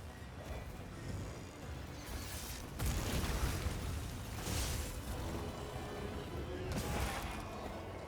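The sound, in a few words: explosion pod blast in video game Monster Hunter Wilds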